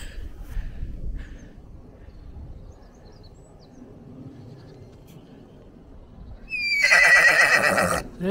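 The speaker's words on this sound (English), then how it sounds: "there's a horse pretending it's a zebra" After several seconds of quiet rumbling, a horse gives one loud, close whinny that lasts about a second.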